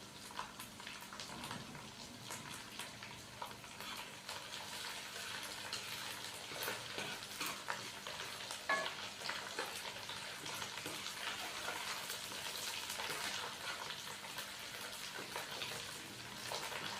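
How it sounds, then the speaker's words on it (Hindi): Green chili and ginger-garlic paste fry in a pan for a kaddu gosht dish, giving a steady, soft, continuous sizzle with faint stirring clicks and no talking. "सब्ज़ मिर्च और अदरक लहसुन के पेस्ट को हम हल्का सा फ्राई करेंगे 1 मिनट के लिए"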